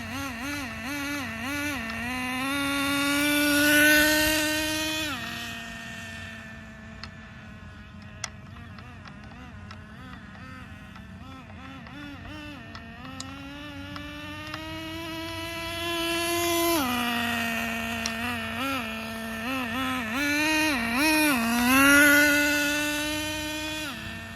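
A nitro-engine Traxxas 4Tec RC car on a test run, its high buzzing whine climbing and falling as it speeds away and returns, fading in the middle and swelling loud again near the end.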